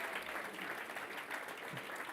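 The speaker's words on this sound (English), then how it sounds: "Let's have a collective round of applause for those teams." Steady applause from an audience at the XPRIZE Healthspan semi-finalist announcement, honouring the prize teams; dense, continuous clapping with faint crowd murmur, moderately distant.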